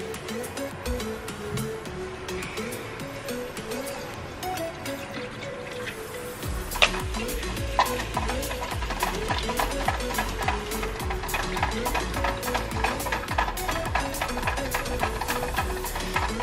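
A film developing tank is agitated by hand, giving a continuous sloshing, churning swirl that turns busier and more rhythmic partway through, with faint tonal background music underneath.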